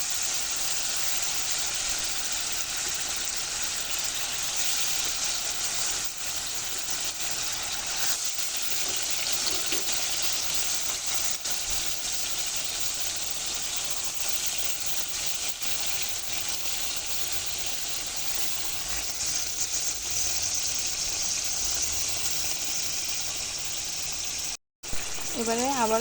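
Sea fish sizzle in spiced oil in a pan, a constant dense hiss held steady at close range throughout, with only a brief break near the end.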